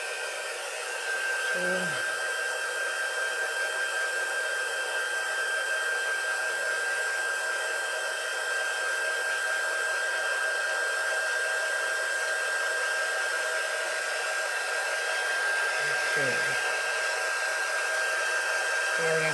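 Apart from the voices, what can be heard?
hair dryer drying paint on a craft piece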